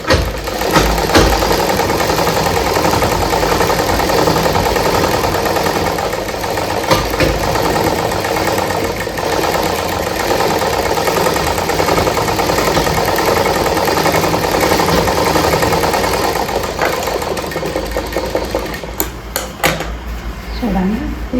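Sewing machine running a double stitch on a blouse, a loud, steady mechanical whir and rapid clatter that keeps up almost without pause, close by, easing off near the end.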